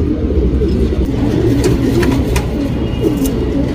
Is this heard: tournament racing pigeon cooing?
yes